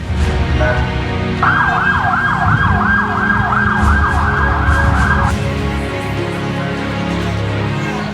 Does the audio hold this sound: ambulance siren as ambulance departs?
yes